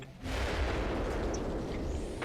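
A TOW launcher firing in a video game sets off a loud, booming rush that swells after a brief quiet start and then sustains as a broad roaring blast for about two seconds.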